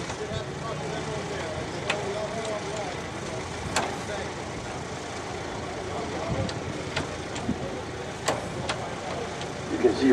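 Hand-cranked 1906 Autocar engine running at a museum demonstration: a low, steady engine rumble with scattered knocks, heard beneath ongoing talk from a nearby speaker.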